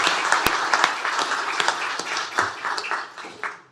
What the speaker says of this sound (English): One more round of applause for Maria.